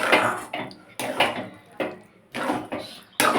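A spoon mixing ghee into spinach in a pot, four loud scraping, clattering strokes of utensil on metal, each separated by a brief quiet gap.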